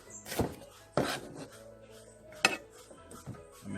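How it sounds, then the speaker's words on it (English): Knife chopping green scotch bonnet pepper on a board in a home kitchen, a few sharp separate chops with short pauses between, close and clear. "I'm going to use some scotch bonnet pepper, some green scotch bonnet pepper"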